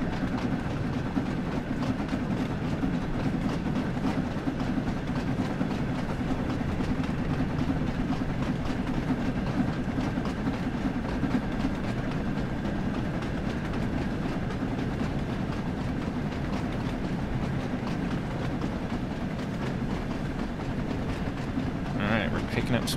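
A steam locomotive rolls forward with a steady, loud mechanical rumble and a constant hiss that carry on unbroken, while a voice talks over it now and then.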